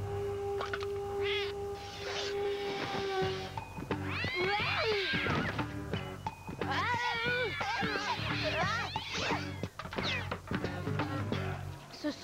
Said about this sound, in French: Ce sont des chats errants.